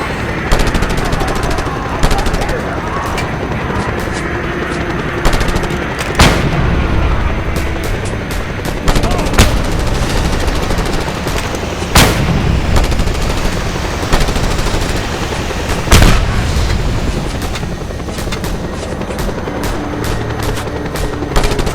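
Gunfire in the Just Cause 2 video game during a helicopter sequence over rooftops, with a dense, constant roar of rotor and engine noise. Sharp sporadic shots punch through it throughout.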